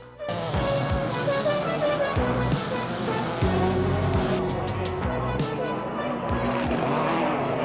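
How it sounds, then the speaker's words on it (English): Two-seater unlimited off-road desert race cars roar past at close range in a 1988 desert race, engines revving hard and continuously with gritty tire and gravel noise. "First up, the two-seater unlimited desert cars."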